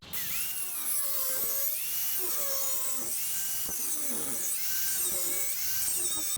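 A small rotary grinding tool trims down a model boat's propeller blades, a continuous high-pitched whine close by whose pitch rises and dips repeatedly as the bit bites into the blade.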